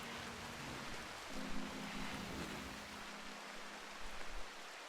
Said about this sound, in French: Vu qu'il pleut.